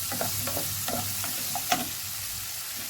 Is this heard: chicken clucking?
no